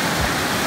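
Floodwater rushes loudly and steadily over a submerged walking path in Gatlinburg after heavy rain, a dense continuous roar with no pauses.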